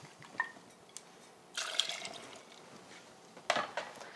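Alpine Rye Whiskey poured into a mixing glass for a stirred cocktail, a short close liquid splash and trickle with a few light glassy clinks and drips before and after, quiet and alone.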